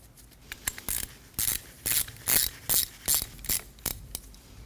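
A ratchet clicks in repeated short bursts as it tightens the nut on an idler pulley of a 2003–2006 Subaru Baja 2.5L H4, about nine close, steady strokes with brief pauses between.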